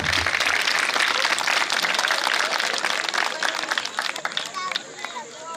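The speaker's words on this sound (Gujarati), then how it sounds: "એકવાર આપણે જોરદાર તાળીઓથી તેમને સન્માન આપીશું." An audience at a school annual function at Shri Vivekanand educational complex in Baldhoi claps loudly and continuously, a dense wash of applause that thins and fades toward the end, with some crowd murmur mixed in.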